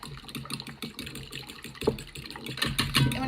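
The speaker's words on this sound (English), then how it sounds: "Just give the eggs a nice whisk." Eggs being whisked in a bowl give a rapid, uneven run of close clicking and tapping strokes, steady throughout with a few louder knocks.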